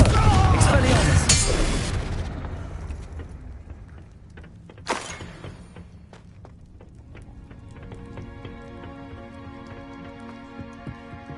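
The Bombarda explosion spell in Hogwarts Legacy goes off as a loud, booming blast that rumbles for about two seconds. A second sharp burst follows a few seconds later, then lighter game effects and tonal music continue underneath.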